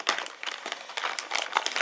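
A plastic bag holding a small USB radio stick crinkles and rustles in short, uneven bursts, close and quiet, with no talking.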